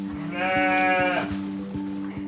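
Ewes bleat in a long, loud call during lambing season. A steady rhythmic thumping sounds beneath it.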